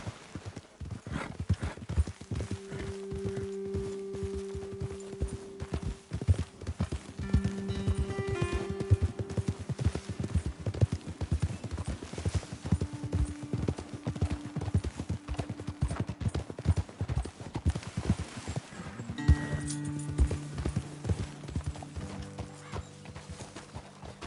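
Horses trot in the video game Red Dead Redemption 2, steady hollow clip-clop hoofbeats close by with an occasional whinny and tonal in-game sounds over the top, and the rhythm continues throughout.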